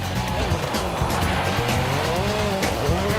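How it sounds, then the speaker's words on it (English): A 2003 WRC rally car on snow in Sweden, its engine revving hard and shifting under tyre noise and skidding. Loud and continuous, with a narrator speaking faintly underneath. "Driving on snow in Sweden demands special tyres and a very special skill."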